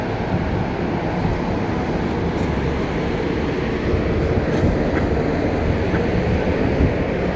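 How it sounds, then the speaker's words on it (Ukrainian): A tram rolls along a one-way street in central Lviv near Sichovykh Striltsiv Street, giving a steady, loud low rumble with rail clatter that holds for the whole stretch, and no voices are heard. "Тільки трамваї в той бік ідуть."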